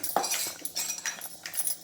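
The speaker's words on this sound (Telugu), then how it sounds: "మనం తయారు చేసుకున్న సాంబార్ పౌడరు వేస్తున్నాను" A spoon clinks against a pot while adding homemade Madras-style sambar powder, giving several light metallic taps spread across a quiet moment.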